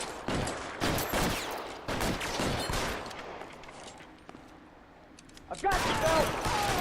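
A Tommy gun fires in the 1940s crime game L.A. Noire, with rapid bursts of automatic gunfire coming in several clustered volleys, then a quieter stretch, then more loud firing and game noise near the end.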